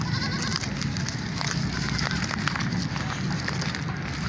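Goats at a livestock market in Karachi, bleating amid a dense, noisy crowd din with shuffling and scattered voices throughout.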